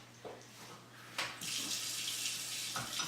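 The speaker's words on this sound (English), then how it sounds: "Why wouldn't my faucet not want to turn off?" A kitchen faucet that won't shut off pours a steady, loud, hissing stream after a few soft knocks. The water runs on without a break and no one speaks.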